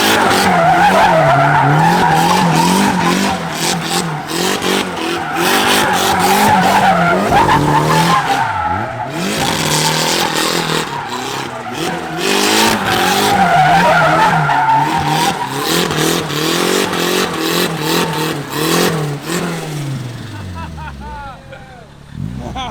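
A rear-wheel-drive Honda Civic with a hydraulic handbrake spins donuts, its engine roaring loud and constant while the tires skid and squeal in long, wavering bursts, the noise fading away at the very end.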